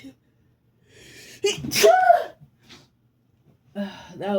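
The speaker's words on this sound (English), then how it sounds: "That was just a regular sneeze." A single sharp human sneeze bursts out near the microphone, preceded by a quick intake of breath, with a short voiced sound afterward.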